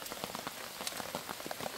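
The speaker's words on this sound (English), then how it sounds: "See the rain there from the river?" Rain falling near a river at an outdoor cooking spot, a dense, even patter of drops striking a surface close by, steady throughout with no voices.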